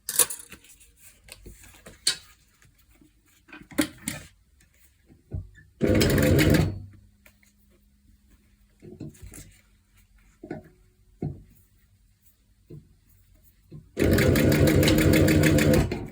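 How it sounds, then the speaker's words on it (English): A sewing machine top stitches along the edge of a leather corset in short separated runs: two loud, dense bursts of rapid needle chatter stand out between quiet gaps filled with small clicks and handling noises. "now I'm gonna top stitch on the edge"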